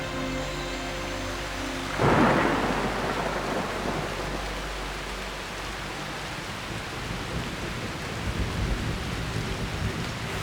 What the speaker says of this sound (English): it will rain almost every day